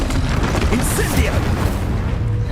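A fire spell explodes amid a wizard duel in Hogwarts Legacy, a loud dense roaring blast that holds its rumble throughout with crackling bursts, under a spoken spell incantation from a voice.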